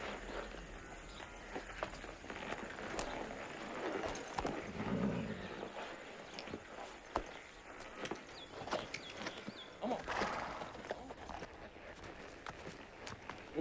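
A horse walks with clip-clopping hooves at a moderate distance, the steps coming in an uneven rhythm alongside faint outdoor ambience and a brief bird call, with no talk.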